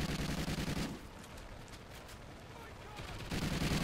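A sentry gun in Call of Duty Ghosts Extinction fires in fast continuous bursts, stops for about two seconds of quieter game noise, then resumes its rapid rattle.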